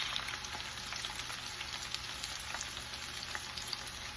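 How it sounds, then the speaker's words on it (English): Hush puppies with bits of onion frying in hot grease, a steady dense sizzle and crackle throughout at close range with no talking. "See how fast they're cooking? That's a good thing because they're not absorbing all that grease."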